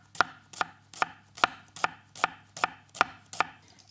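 A knife slices red onions into thin strips on a cutting board, giving nine evenly spaced crisp chops in a steady rhythm, close and clear with no talk.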